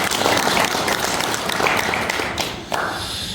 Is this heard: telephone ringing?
no